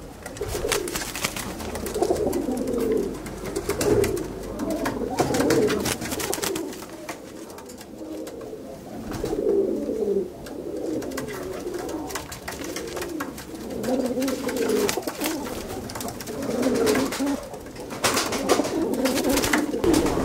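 Racing pigeons cooing in their loft, repeated soft, throaty coos in rhythmic bursts from several birds close by, steady and fairly quiet with no talking.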